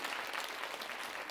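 Congregation clapping during a Friday all-night church worship service, a dense, even burst of applause from many hands, heard clearly and alone.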